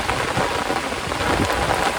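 Heavy monsoon rain pours down steadily in the open, with wind, making a dense, loud, unbroken hiss throughout.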